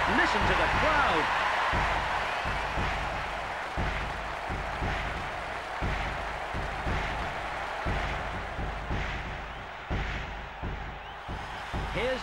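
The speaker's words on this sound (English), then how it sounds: "Listen to the crowd." Stadium crowd noise in International Superstar Soccer 98 during a Germany versus Scotland match, a broad roar that starts loud and slowly fades, with a commentator talking over it.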